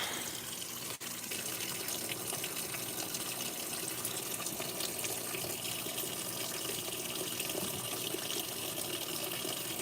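A Whirlpool direct drive washing machine fills with water, a steady, even rushing and splashing hiss that runs unbroken for the whole stretch at moderate level after a brief click near the start.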